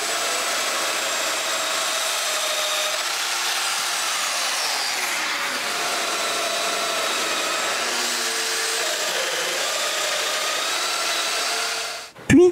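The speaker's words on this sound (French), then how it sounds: "je peux marquer l'endroit où percer les mortaises et je les perce" A power drill bores mortises in cedar patio table legs, giving a steady whining motor drone with gently shifting pitch for about twelve seconds, then ending in a sudden loud burst.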